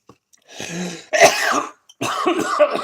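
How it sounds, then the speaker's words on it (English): Three sharp throaty bursts in quick succession, a sneeze followed by harsh coughs, close and loud with brief silences between. "Sneeze cough."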